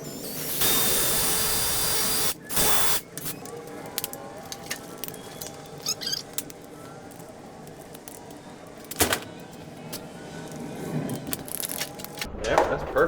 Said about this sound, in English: And then let's drill it out.